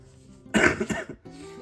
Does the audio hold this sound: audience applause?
no